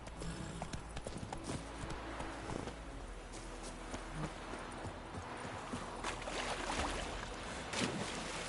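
Roach, the horse in Witcher 3, trots steadily with rhythmic clip-clop hoofbeats over a continuous game ambience of wind and outdoor noise, with no voices heard.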